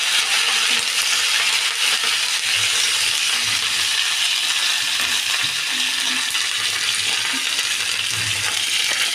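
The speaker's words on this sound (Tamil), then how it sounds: "கடுகு நல்லா பொரியுது இப்போ நம்ம வந்து கருவேப்பிலை போட்டுக்கலாம்" Mustard seeds and curry leaves fry in hot oil while tempering for a homemade chutney, a loud, dense, steady sizzle with crackling pops running throughout.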